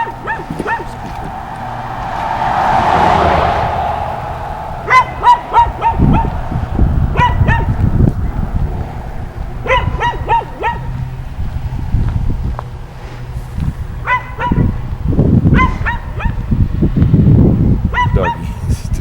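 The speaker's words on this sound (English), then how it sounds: "Doggy still barking at me." A dog on a New Hampshire town street barks repeatedly at a passing walker, sharp yips and bow-wows in irregular bursts over a low background hum and a passing whoosh.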